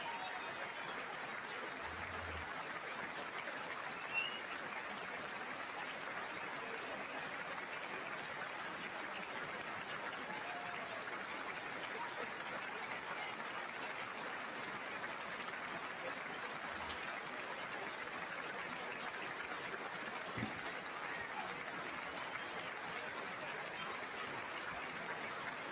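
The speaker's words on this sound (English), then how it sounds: "Longest applause of the night." An audience breaks into long, sustained applause, a dense, even wash of clapping from a large crowd that continues without pause, with scattered faint cheers mixed in.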